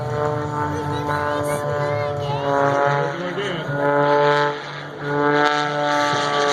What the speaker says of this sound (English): That's 330 horsepower engine cranking out. Cranking out the horsepower.